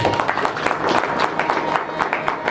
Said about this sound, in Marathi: त्यांच्यासाठी सर्वांनी टाळ्या वाजवा